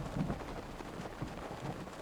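Rain in the video game Zelda: Breath of the Wild, a soft, steady patter with a low rumble beneath it and occasional faint thuds, heard alone.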